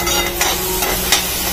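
Masala paste is stir-fried in a pan for prawn-stuffed pomfret, a brief close burst of continuous sizzling with a few soft scrapes of the spoon.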